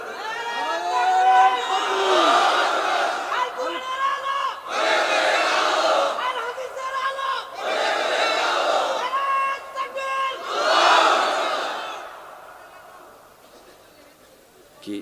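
A large crowd at an Islamic religious gathering loudly shouts slogans together in repeated bursts of a few seconds each, separated by short pauses, then fades near the end.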